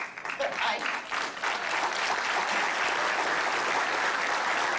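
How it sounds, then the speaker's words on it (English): Sustained audience applause fills the room as actress Betty Lynn is welcomed on stage at a live show, steady and loud clapping from a large crowd with a faint cheer near the start. "So the crowd's welcoming Betty"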